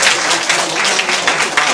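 Audience applause at a Korean parenting talk, a dense, loud, sustained wash of many hands clapping together throughout.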